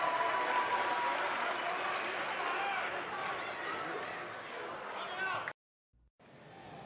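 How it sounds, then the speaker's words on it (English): A crowd at a wrestling event in WWE 2K20 applauds loudly and steadily for several seconds, then cuts off abruptly, and a fainter crowd roar follows. "the crowd here tonight still in awe over that great match"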